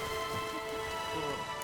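Steady rain falls in The Witcher 3, a broad continuous hiss filling the short stretch at an even level with no clear drops standing out.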